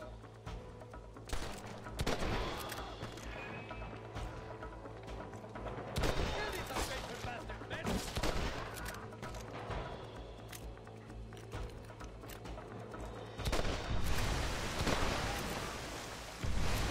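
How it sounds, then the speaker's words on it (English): Gunfire crackles through a Red Dead Redemption shootout on the Nintendo Switch: dense, repeated shots and bursts come in waves over a constant rumble, with faint voices in the mix. "They're shooting down on us!"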